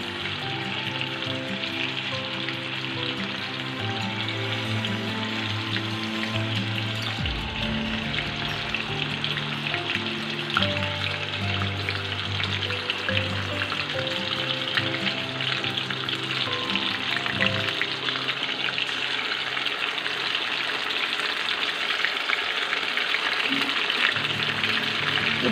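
Stuffed brinjals fry in a pan for a Kannada-style brinjal curry, giving a steady close sizzle and crackle that runs unbroken through the whole stretch, with no talking over it.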